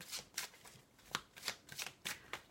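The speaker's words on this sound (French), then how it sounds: "je vais prendre quelques petites cartes pour vous donner un supplément de" Tarot cards are shuffled close up in a rapid series of soft riffling bursts, each a brief papery flutter, in an otherwise quiet room.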